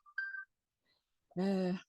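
A phone plays a short reminder notification, two brief electronic tones followed by a louder harmonic chime, heard close in a quiet room.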